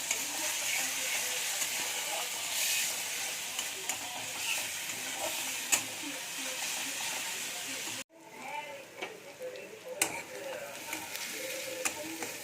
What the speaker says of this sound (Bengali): আবারও মশলাটা ভালো করে কষিয়ে নেব।